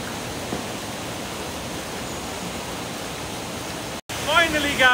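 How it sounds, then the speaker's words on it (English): A waterfall in Sapadere Canyon gives a steady, broad rushing roar of falling water, close and constant, with a short break near the end before talk starts over it. "Look at this beautiful waterfall."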